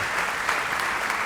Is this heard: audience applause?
yes